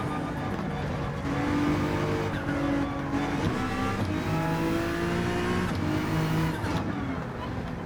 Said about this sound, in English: At the 50, some hard braking. Oh, need a little bit more engine braking.